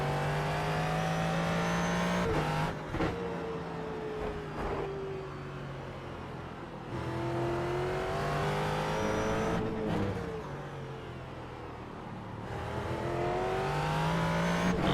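A Ford GT3 race car on track at Sonoma roars steadily, its engine climbing through the revs, dropping on gear shifts and rising again, loud and continuous throughout.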